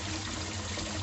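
Water rushes strongly through the skimmer of a koi pond with no pump, a close, steady, loud gushing flow that fills the whole short moment without any voices.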